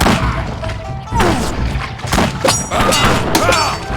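Combat in the strategy game Battle Realms, a dense run of loud thuds, booms and impacts with overlapping clashes, close and busy.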